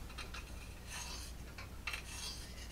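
A knife blade is drawn across a diamond stone on a guided sharpener, making several quiet, rhythmic rasping strokes at close range with no talk.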